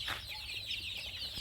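Sonali chickens on a poultry farm cluck softly in close, quiet, short calls over a low background hum, with no talking.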